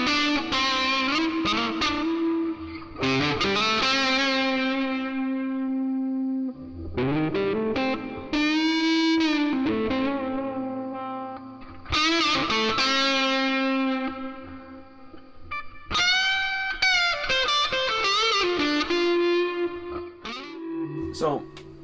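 Distorted electric guitar through the lead setting of Guitar Amp Sim 3, bending sustained lead notes in separate phrases with brief gaps between them, played alone.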